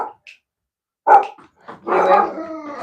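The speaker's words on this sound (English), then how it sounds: "Oh, there's our dogs." Dogs bark indoors at close range, a single sharp bark then a longer run of loud, rough barking with a yip-like edge, separated by brief silences.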